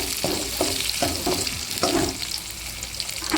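Spices, cumin, pepper and poppy seeds sautéing in a pan for an egg drop curry, a soft steady sizzle with a few brief stirring scrapes, close and alone.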